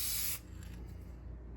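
A spray gun lays paint onto a Corvair body, giving a short, bright hiss that cuts off after a fraction of a second and leaves a quiet low hum behind.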